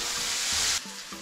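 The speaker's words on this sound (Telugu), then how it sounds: "గార్లిక్ వేసుకుంటాం." Garlic drops into hot oil in a pan for rice rava upma and gives a loud, close sizzle that cuts off abruptly partway through, leaving a softer frying hiss.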